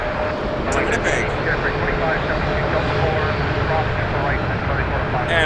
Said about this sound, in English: Air Canada 265 A320. Just departing now to Winnipeg.